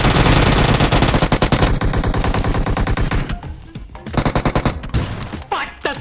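Rapid automatic gunfire from PUBG Mobile, loud dense bursts of repeated shots that break into shorter volleys and single cracks, filling the clip.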